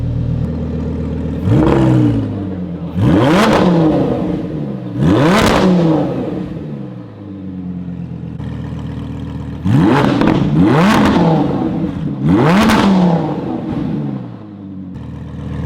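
Straight-piped Audi R8 with a newly fitted supercharger revs hard in a series of sharp bursts, rising and falling, about five loud pulls close by with a rough, steady idle between them.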